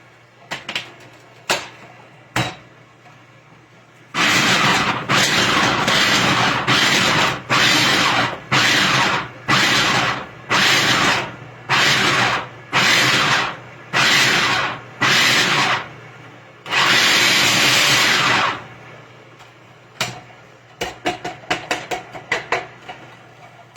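A food processor pulses to dice a large onion for homemade soup: about ten loud, evenly spaced bursts of whirring blade, then one longer run. A few light clicks and knocks come before and after, and there is no talk.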